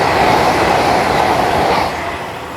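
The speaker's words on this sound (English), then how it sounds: "there is some sort of train which is about to pass through" An IET train passes close by near Pangbourne station on the Reading to Didcot line, a loud steady rumble of rail noise filling the whole stretch and easing slightly toward the end, with no talking.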